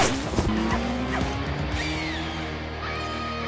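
Car speeding away from police with tires squealing, a drawn-out screech over a revving engine drone, fairly close and sustained, with rising squeal tones later on.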